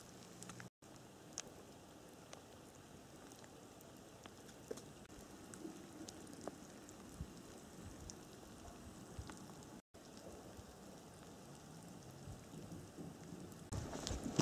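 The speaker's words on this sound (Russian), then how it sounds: "а вот заморосил дождь, сейчас разыгрался" Light rain falls steadily in a forest, a soft, even patter with scattered drops that grows slightly heavier toward the end.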